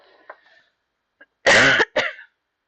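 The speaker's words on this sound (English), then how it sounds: "They make me cough every time." Two sharp, close coughs from someone irritated by incense smoke, following a few faint small sounds.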